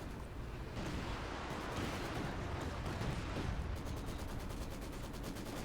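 Artillery barrage in Company of Heroes 2, a dense, continuous roar of distant blasts and rumbling fire that holds steady throughout without any talking.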